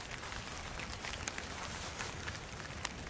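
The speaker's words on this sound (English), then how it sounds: "It's raining today" Steady outdoor rain hisses in a pea garden, a dense even wash of patter with scattered sharper drops, moderately quiet and continuous, no one speaking.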